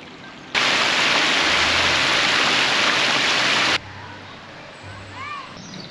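A river in the New Forest rushes with a loud, steady broadband wash that starts abruptly and holds for about three seconds, then falls back to a softer flowing background with faint birdsong.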